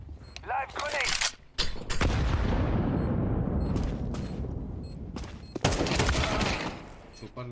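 A live grenade detonates in Counter-Strike 2 with a loud booming blast that rolls into a long, broad rumble lasting several seconds, framed by sharp gunfire cracks before and after, and a voice talks briefly near the start.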